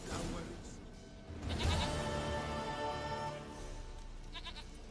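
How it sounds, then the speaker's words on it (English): A goat in the video game Witcher 3 bleats in a few wavering, nasal calls, fairly close and clear, with game ambience underneath and no talking. "Goat of mine, dearest, sweetest goat."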